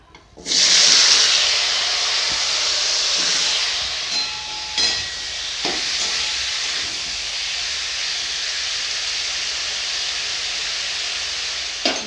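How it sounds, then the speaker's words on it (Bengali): Cauliflower florets coated in salt and turmeric hit hot oil with a sudden loud hissing sizzle that settles into a steady, intense fry, with occasional clinks of a utensil. "সেটাকে আবার নুন হলুদ দিয়ে মাখিয়ে নিয়েছি এটাকে আমি তেলে ভেজে নেবো"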